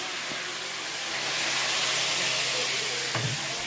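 Cauliflower and carrot fry in oil in a home kitchen with a steady, loud, close sizzle and a brief clatter near the end.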